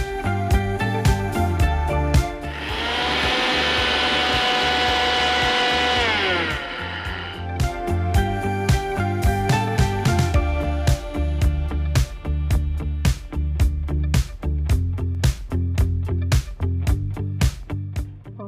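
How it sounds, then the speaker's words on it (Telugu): A kitchen mixer grinder coarsely grinds seeds and nuts for halim laddu in one loud whirring burst of about four seconds that winds down, with other clattering kitchen sounds around it. "ఓకే, సో ఇంకా మనం మిక్సీ పట్టేద్దాం."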